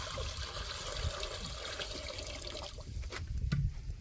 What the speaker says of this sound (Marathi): भांड्यामध्ये पाणी ओतून घ्यायचं आहे